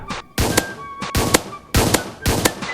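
Gunfire in the Roblox game A Dusty Trip: four loud, sharp shots in an even rhythm with ringing tails, and a brief fainter shot before them.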